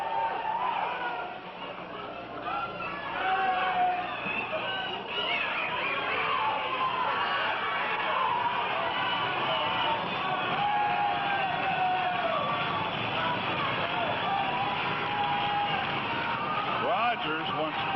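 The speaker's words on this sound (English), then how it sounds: "And the crowd keeps the noise going," Steady, loud arena crowd noise at a live wrestling handcuff match fills the whole stretch, a dense roar with whistles and shouts, while a commentator's voice talks over it throughout.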